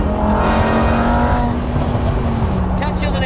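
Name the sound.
V10 supercar exhaust revving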